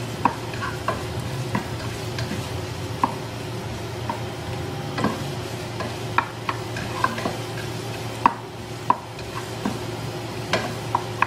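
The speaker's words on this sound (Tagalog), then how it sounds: "isasabay ko na po itong luya. Puluya para ma-fry na rin siya ng sabay." Ginger frying in a pan for arroz caldo with oyster mushroom gives a steady, quiet sizzle over a low hum, punctuated by regular light clicks and taps of a utensil stirring.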